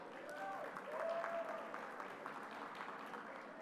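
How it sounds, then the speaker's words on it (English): Applause from the crowd at a RE/MAX Philippines REAL/TALK event, steady moderate clapping heard from a distance with some faint voices mixed in. "Let's give ourselves a round of applause"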